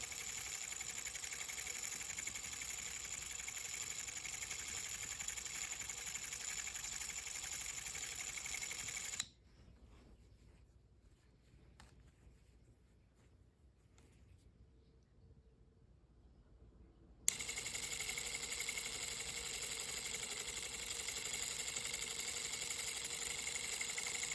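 A needle felting machine runs in a steady mechanical chatter tacking down wool, cutting out completely for several seconds midway and then resuming at the same level; nobody speaks.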